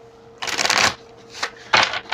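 Tarot cards are shuffled by hand in three quick riffling bursts, one long and two short, close and fairly loud with brief pauses between.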